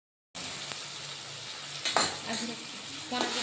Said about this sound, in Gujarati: હાલો જો આપણે સૂકી ભાજી વઘારવા મળ્યા છે